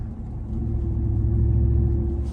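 A loud Ford F-150 with a 5.0 V8 and loud exhaust rumbling in slow morning traffic, a steady deep low growl that holds throughout with no voices.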